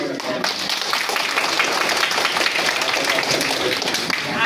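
An audience at a school event in Chitavan, Nepal, claps continuously to welcome guests from a Lions Club, a dense steady applause filling the room with no clear break.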